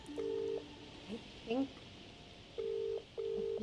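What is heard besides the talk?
telephone dialing in a video game phone box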